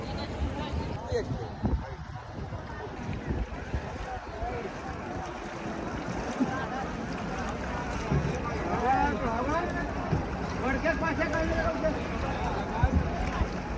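Busy river ambience at the Maha Kumbh Mela, with boats moving on crowded water, steady motor and water noise throughout, with voices and chatter mixed in around it.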